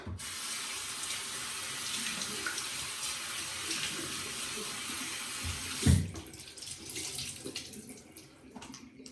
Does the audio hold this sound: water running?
yes